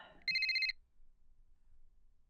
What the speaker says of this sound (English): my phone rang and the sharp sound jolted me